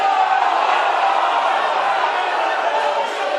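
Rugby league crowd at Odsal, Bradford, roaring and shouting at the referee during a match, a dense, loud, continuous wall of massed voices with no individual speech standing out.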